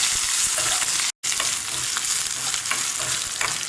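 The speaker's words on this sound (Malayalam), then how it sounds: "ഇഞ്ചി എല്ലാം നന്നായി വഴറ്റി കിട്ടിയിട്ടുണ്ട്. ഒരുമാതിരി ക്രിസ്പി. ഇതുണ്ടോ, ഇത് ഇളക്കുമ്പോൾ ആ ഒരു ശബ്ദം കേൾക്കും" Crispy fried ginger is stirred in a pan for a pesarattu chutney, giving a steady, close crackle and scrape that cuts out for a split second near the start, then resumes evenly.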